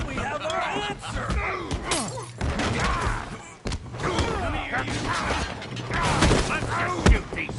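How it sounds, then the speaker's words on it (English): A saloon gunfight in Red Dead Redemption 2, with dense, overlapping shots, thuds and shattering crashes running continuously beneath several voices shouting and talking. "Let's shoot these bastards."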